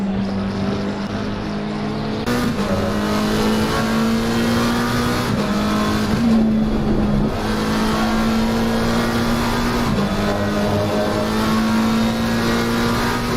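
A GT3 race car laps the Barcelona circuit, its engine holding a steady high drone with brief shifts and revs as it pushes through the lap, loud and continuous.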